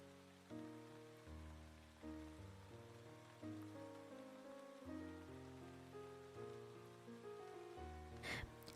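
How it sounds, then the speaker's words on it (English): Soft, steady rain patters beneath slow sustained musical chords, ending with a brief sharp rustle. "I've been listening to a lot of rain ASMR, and it's actually quite nice."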